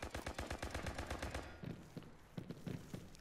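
Rapid bursts of automatic gunfire from America's Army: Proving Grounds, a quick string of close, sharp shots for about a second and a half, then a few scattered single shots over quieter game ambience.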